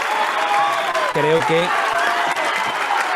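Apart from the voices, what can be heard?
recorded applause played as a sound effect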